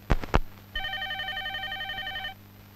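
Two sharp knocks are followed by a telephone ringing in a single electronic trilling burst lasting about a second and a half, clear and fairly close, then it stops.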